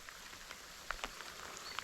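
Light rain falls at Upper Lake Matahina in New Zealand on a windless, overcast morning, giving a steady soft hiss with a few faint distinct drops.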